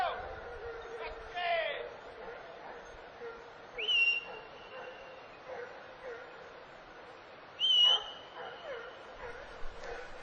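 Hunting dogs on a wild boar hunt in a steep river valley give a few distant, scattered barks and yelps amid open quiet, with someone narrating over them.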